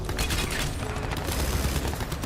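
Sustained automatic gunfire in Crysis 3, a full magazine emptied at a robot, with dense rapid shots running loud and continuous throughout.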